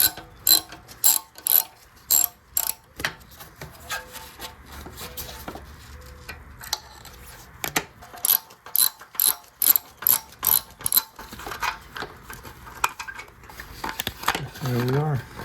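A ratchet with a long T20 bit works a header bolt loose on a BMW S1000RR motorcycle, giving bursts of sharp, rapid clicking close by, separated by pauses and fainter handling sounds.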